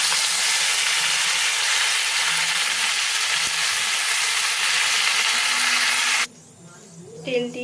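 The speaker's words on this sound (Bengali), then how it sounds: "মাথাগুলো একটু ভেঙে ভেঙে দিচ্ছি, এটা ভেতর থেকে ভাজা হয়ে যায় খুব ভালো করে।" Fish heads frying in hot oil, broken up in the pan, give a loud, steady close sizzle for about six seconds before it drops sharply and a voice speaks over a quieter crackle.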